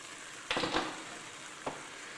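Diced white onions frying in a pan for Cincinnati-style chili, a steady soft sizzle with two brief louder stirring scrapes, close and alone.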